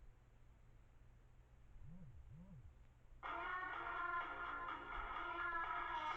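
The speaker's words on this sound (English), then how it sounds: "Ignore that, that's my phone." A phone goes off during a poker session, a loud sustained ringtone with bright layered tones starting abruptly partway through and continuing steadily to the end, after a brief quieter rising tone earlier.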